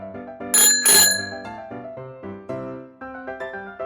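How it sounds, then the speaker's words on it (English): A bicycle bell rings twice in quick succession, bright and close, then a few softer tones follow. "This is the bicycle bell."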